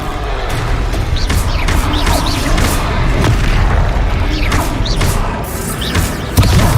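Spell impact in Hogwarts Legacy combat: dense, loud booming blasts and crashes layered over a continuous roar of battle noise, with a heavier thump near the end.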